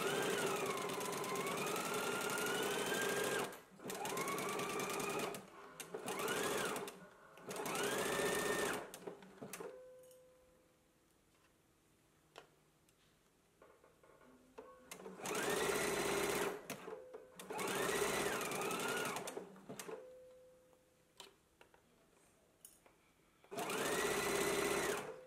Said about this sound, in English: You can go ahead and stitch it at a 5/8 of an inch seam allowance and then finish off your raw edge.